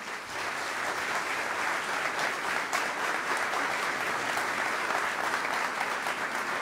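A crowd applauds a folk group from Casa do Povo da Camacha at a Madeiran traditional string-instrument concert, with dense, steady clapping throughout that stays loud and even from start to finish.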